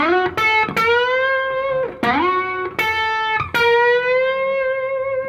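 Electric guitar played in a fake slide style, notes bent down and back up with the whammy bar, several swooping pitch dips between sustained, ringing tones.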